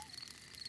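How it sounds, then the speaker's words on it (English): Faint, high crickets chirp in a soft continuous pulse against quiet night air in a Peppa Pig cartoon, with no voices. "That is the sound of crickets chirping."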